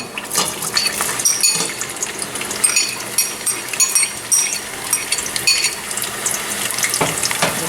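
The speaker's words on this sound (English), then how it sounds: "you can see that onion is frying" Crackling sizzle of onions frying in hot oil, dense and continuous with sharp pops and faint clinks of a pan.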